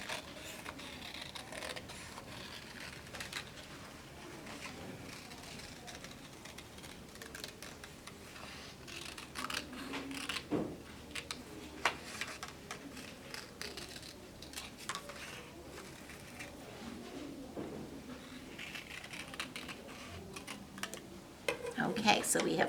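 Scissors snip through paper to cut out small craft pieces such as legs, arms, a body and a head, giving a steady run of crisp, close clicks and rustles that stay fairly quiet throughout.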